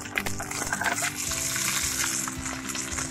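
Rice with ajwain (carom seeds) is stirred in a hot pan, giving a close, continuous sizzle with scraping and stirring scuffs.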